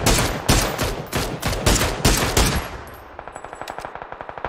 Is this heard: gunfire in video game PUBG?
yes